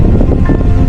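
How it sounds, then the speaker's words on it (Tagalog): Loud, continuous rushing water roars up close at Barusibis Falls in Lagayan, Abra, a dense wash of splashing noise with no pauses. "Tingnan mo, may nababagsak na tubig, di ba?"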